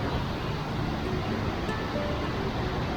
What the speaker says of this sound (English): Got boulders and rivers and kind of a waterfall.